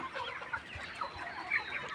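Layer hens, some with watery, swollen eyes, cluck in a continuous, overlapping chorus close by, with short irregular calls and no talking.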